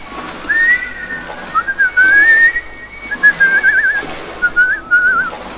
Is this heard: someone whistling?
yes